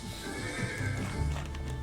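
A horse whinnies with hooves clip-clopping in a busy, dense mix, steady and fairly loud throughout.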